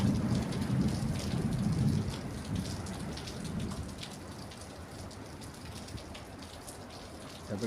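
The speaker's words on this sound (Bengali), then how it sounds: "অথচ এখন কি পরিমাণ বৃষ্টি হচ্ছে দেখেন" Heavy rain pours steadily on a village home, a dense close hiss throughout, with low rolling thunder rumbling beneath during the first few seconds.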